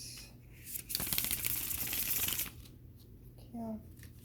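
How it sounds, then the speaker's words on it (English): Tarot cards are riffled and shuffled in a quick, dense rustling burst lasting over a second, close and fairly loud, with quiet moments and a brief voice before and after. "shuffle"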